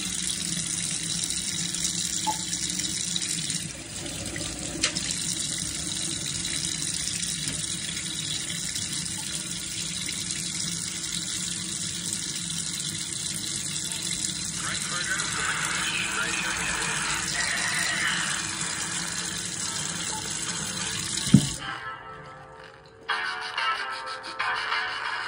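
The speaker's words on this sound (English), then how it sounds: "B-roll of the splashing and to make sure that it actually does continue to work." Water pours and splashes steadily over a Talkpod A36 Plus handheld radio for over twenty seconds, a close continuous gushing like a running tap, stopping abruptly near the end with a brief clunk.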